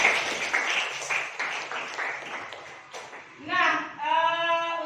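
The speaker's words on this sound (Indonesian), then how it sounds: "Tepuk tangan semuanya." A class of children claps hands in a lesson, a rhythmic patter of clapping for several seconds, followed by a young voice calling out.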